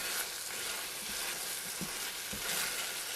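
Squash mixture cooking down in a pot over medium heat, a steady close sizzle and bubbling with a few soft stirring knocks, with no talking.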